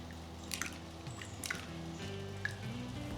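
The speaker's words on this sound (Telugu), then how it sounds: "మేమైతే చేత్తోనే కలుపుతామండి." Wet squishing and dripping as tamarind pulp is mixed by hand with a paste of green chilli, garlic, cumin and salt, soft, close and intermittent over a low steady hum, with no talking.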